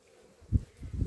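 Low buzzing hum of honey bees flying close by from a hive, rising in a couple of brief swells over a quiet background.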